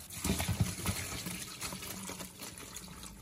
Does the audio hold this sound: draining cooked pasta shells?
yes